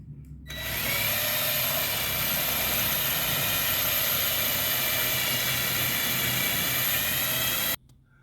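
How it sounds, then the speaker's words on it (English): A drill bores out a rivet on a Flagstaff A-frame camper, giving a loud, steady high-pitched whine that starts abruptly and runs unbroken for about seven seconds before cutting off sharply. "I'm going to drill that out"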